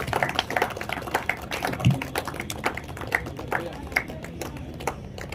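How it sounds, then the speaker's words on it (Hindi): Scattered clapping from an audience at a trophy award ceremony in Bhagalpur, light and uneven rather than a full roar, with some faint background voices. "जोरदार तालियां बजती रहनी चाहिए।"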